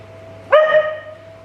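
One sharp, high bark from a female dog rings out close by over a faint steady hum, then fades quickly.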